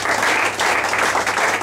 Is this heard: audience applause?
yes